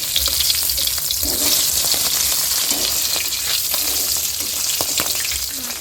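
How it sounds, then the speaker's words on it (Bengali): Tengra fish fry in hot oil in a wok. A loud, steady crackling sizzle runs throughout, with faint scraping underneath and no speech. "মাছ কিন্তু আমার ভাজা হয়ে গেছে"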